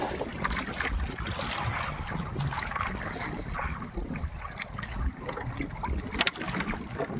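Strong monsoon wind blows over the sea, a steady roaring rush of wind buffeting the microphone from a small boat, with splashing water throughout and no talking.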